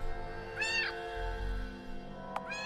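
Two plaintive meows from a cat in the horror game Coerced Cage, one brief cry followed by a second after a pause, heard over a low, steady ambient drone with a sharp click between them.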